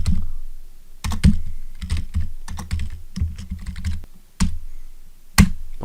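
Typing on a computer keyboard to enter a web search: quick irregular bursts of close, crisp key clicks with short pauses between clusters and no speech.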